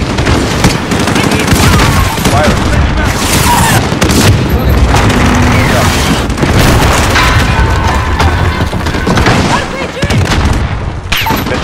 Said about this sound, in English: Missile inbound. Hit. Close to the target.